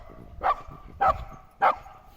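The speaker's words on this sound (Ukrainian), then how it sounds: "а мої собаки, як завжди, сходять з ума" Dogs bark excitedly, three sharp barks spaced about half a second apart, loud and close, with quiet pauses between them and no talk.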